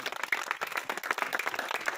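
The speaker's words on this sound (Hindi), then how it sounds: "चलिए ताली जोर से बजाइए, जोर से" A crowd at a political rally in Sitamarhi, Bihar claps loudly and steadily for two seconds, a dense patter of hands with no voices over it.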